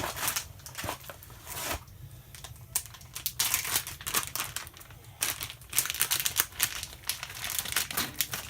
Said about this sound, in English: Gotta get a couple brats out too and put them in the aluminum foil and get those going.